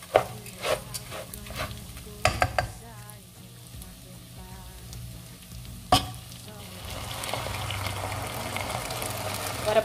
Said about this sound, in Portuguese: Agora vou esperar dar mais uma refogada.